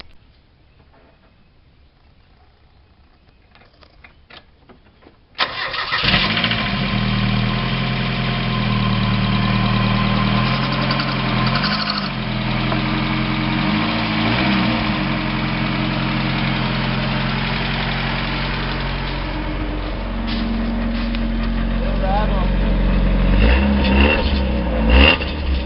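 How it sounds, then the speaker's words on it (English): Car engine with a newly installed exhaust header starts after a brief quiet moment and settles into a steady, loud idle, a deep exhaust rumble carrying on close by with no talking. "we're gonna do an exhaust clip"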